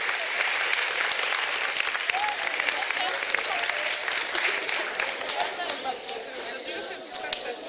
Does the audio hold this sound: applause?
yes